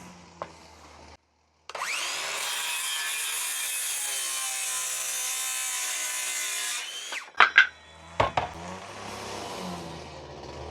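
A DeWalt circular saw spins up and rips steadily through a sheet of plywood with a loud, sustained whine, then winds down, followed by a few sharp knocks and clatters.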